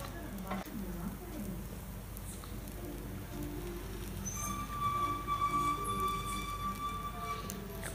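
A wheat paratha stuffed with chicken kheema cooks on a hot dosa tawa, giving a low, steady sizzle with faint scraping. Some higher tones and a light rumble sit underneath, and no one speaks.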